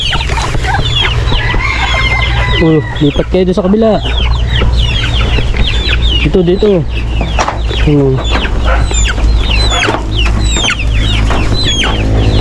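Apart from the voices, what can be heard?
chickens clucking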